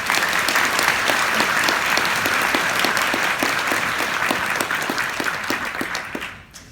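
Steady applause from an audience, dense and sustained clapping that continues evenly before tapering off at the end.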